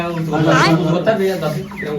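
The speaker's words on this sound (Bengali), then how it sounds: "এটা কত বড় মুরগি" A large chicken, held in someone's hands, gives a short burst of loud, close clucking and squawking while people talk over it.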